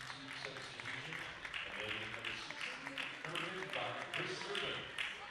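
A football crowd applauds as a substituted player leaves the pitch, steady broad clapping from the stands spread across the whole stretch, with a commentator talking over it.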